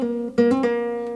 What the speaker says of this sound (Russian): когда нам нужно сделать хамирон с пул-оффом